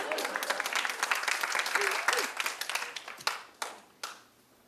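An audience at a church retreat session in Indonesia claps and applauds, a dense wash of hand claps that thins into a few scattered claps before fading out.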